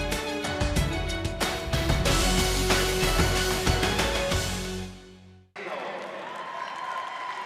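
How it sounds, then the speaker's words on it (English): Crowd at Koch Arena celebrating a 6A state basketball championship, a loud sustained roar of cheering and applause with sharp claps and horn-like tones, dropping out briefly before a quieter crowd murmur returns. "Players in the crowd celebrating a 6A state championship."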